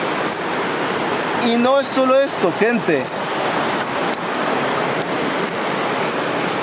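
Water flows outdoors with a constant, loud rushing wash that resembles surf, while a person speaks over it for a few seconds.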